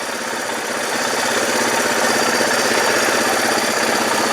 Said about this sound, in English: Got a log splitter out too.